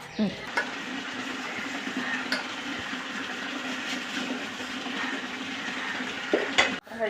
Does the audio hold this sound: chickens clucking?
no